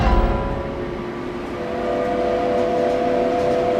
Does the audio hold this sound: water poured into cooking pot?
no